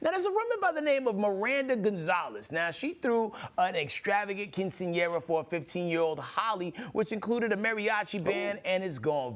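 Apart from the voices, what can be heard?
None of the usual background noises is heard.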